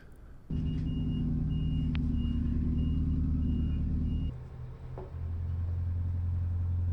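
A boat engine at a fuel dock cranks and catches after weak batteries, then runs with a loud steady low rumble, briefly dips, and settles into a lower idle.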